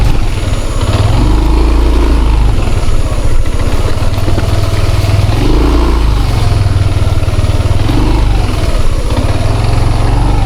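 A motorcycle engine idles loudly and close by, a steady rough putter with slight rises in pitch, heard on a rainy rural path.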